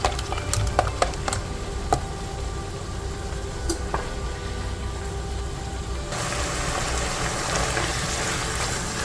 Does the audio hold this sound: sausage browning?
yes